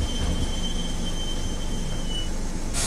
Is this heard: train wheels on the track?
yes